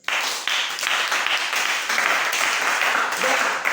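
A church congregation applauding the Lord, a steady wash of many hands clapping at close range throughout, with faint voices mixed in.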